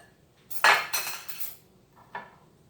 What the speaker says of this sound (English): You're going to slice it long ways. I use a nice, smooth, sharp knife.